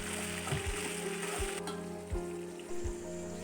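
Ginger, garlic, onion, chilli and tomato sizzle in hot oil in a pan, a steady crackling fry broken by several soft thuds of stirring, close and fairly quiet.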